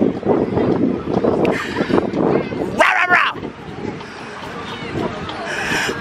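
A dog barks and whimpers at a family beach outing, short yips and whines scattered through steady nearby chatter and outdoor background noise, with people talking throughout.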